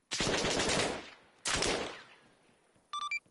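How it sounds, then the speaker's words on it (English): Gunfire from a house in the video game Gogland Operations: two loud bursts of rapid automatic fire, each fading out, followed by a few short electronic beeps. "Shots from the house."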